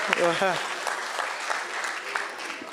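A brief voice gives way to faint, scattered clapping from an audience at a stakeholders' meeting on the Lagos-Calabar highway, quiet and sparse throughout.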